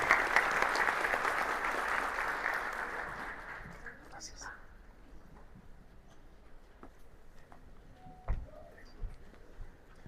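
Applause from a conference audience welcoming the ANALDEX executive president, strong at first and dying away within about four seconds, then quiet room noise with a few knocks and faint murmurs.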